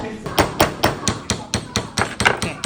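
Hammer repeatedly striking a letter stamp on a silver ring, about a dozen sharp metallic taps in a steady quick rhythm, loud and close.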